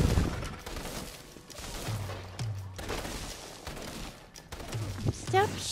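Gunfire in the video game inFAMOUS Second Son, a steady run of sharp shots and bursts scattered across the clip, mixed with game effects and someone talking throughout.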